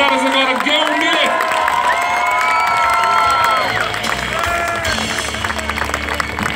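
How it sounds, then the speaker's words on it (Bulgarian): Audience applause and cheering for the graduates of the Geo Milev profiled science and mathematics high school in Stara Zagora at their graduation ball: steady loud clapping with shouts, while a voice talks over it. "Моля сърдечни аплодисменти за абитуриентите на профилирана природо-математическа гимназия Стара Загора Гео Милев!"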